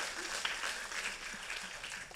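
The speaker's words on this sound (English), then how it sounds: "can we just give a quick round of applause for really our board?" Applause from the audience at a City Market member meeting, honoring the board: a steady, fairly quiet patter of many hands clapping throughout, heard from some distance.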